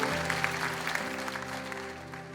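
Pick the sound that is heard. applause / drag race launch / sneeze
applause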